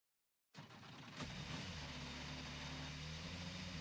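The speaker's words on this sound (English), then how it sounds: "With a very odd sounding engine as well." After a moment of silence, an open-wheel race car engine in Gran Turismo Sport starts up and holds a steady droning idle with a buzzy, tonal hum, fairly loud and close.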